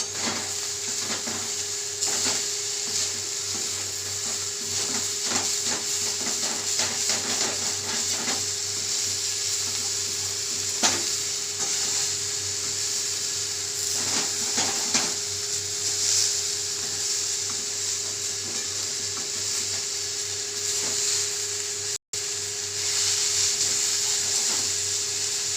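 Potato and garlic leaves fry in a covered pan with a steady, close hiss and scattered crackles, interrupted briefly near the end.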